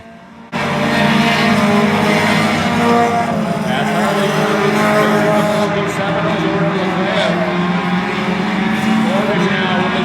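Outlaw division race cars roar around the Oyster Bed Speedway oval, a loud, continuous engine drone that starts abruptly and holds steady with shifting pitch as cars pass close, under a commentator's voice.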